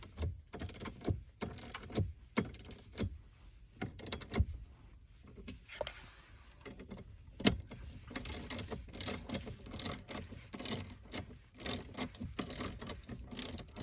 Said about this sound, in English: once these are tightened down, okay, the next step is attaching the next piece to the back of the display.